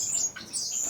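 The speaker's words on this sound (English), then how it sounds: "they have a lot of names for this bird, but in general I'll just call them my cubans" A small caged Cuban grassquit, or melodious finch, gives thin high-pitched chirps and trills in a short, close burst, with no talking.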